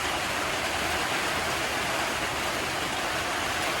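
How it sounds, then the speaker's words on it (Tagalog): Heavy, steady rain pours down without wind during a typhoon, a dense, even roar of rainfall that holds constant and close throughout with no gusts or pauses. "kusog ang ulan basta wala lay sagol hangin"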